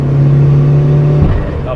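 Boosted Suzuki Swift Sport ZC31S engine pulling hard under acceleration in fourth gear, a steady loud droning tone that drops off near the end, with someone talking over it.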